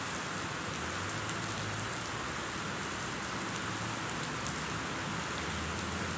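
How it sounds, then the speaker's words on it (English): Steady rain pattering on a surface, a continuous dense hiss with occasional sharper drops, no voices. "So it's raining today!"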